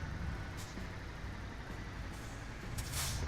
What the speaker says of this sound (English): Brakes, full brakes.